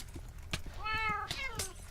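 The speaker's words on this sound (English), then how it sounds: "Come here, kitty." A cat meows in the video game Minecraft, two or three close, clear mews in quick succession with a rising, wavering tone, alone apart from light game sounds.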